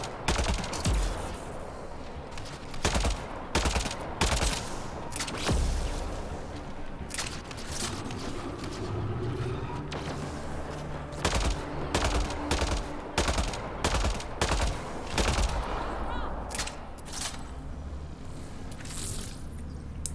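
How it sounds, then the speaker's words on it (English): Turret gunfire in Mass Effect: Andromeda, sharp clustered bursts of shots recurring in irregular volleys against a low rumbling battle background, moderately distant and steady across the scene. "Oh, it's a turret."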